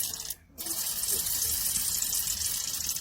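A Misto aluminum oil mister bottle spraying, a close, soft airy hiss that cuts out briefly near the start, then resumes and holds steady.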